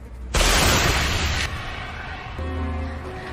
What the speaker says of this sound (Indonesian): kapten akan menembakkan pistol suar untuk menandai lokasi akuratnya